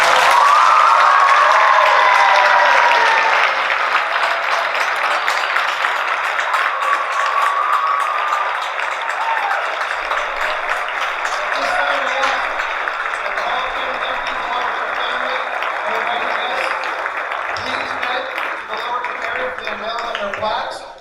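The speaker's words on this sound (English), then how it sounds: "let's give a wonderful round of applause to the 2019 Middletown High School." Audience applauding at a 2019 Middletown High School hall of fame induction, a dense, sustained wash of clapping with a few whistles and cheers that stays steady and loud for about twenty seconds.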